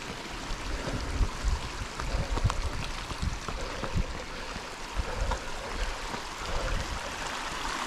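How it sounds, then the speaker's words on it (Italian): A mountain stream on a July alpine trail near Sestriere rushes steadily in a continuous broadband wash, close by and fairly loud, with no voices. "C'è questo ruscello qua da superare"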